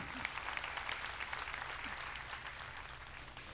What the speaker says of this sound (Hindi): मैं चाहता हूं उन्हें बड़ी तालियों से धन्यवाद दें।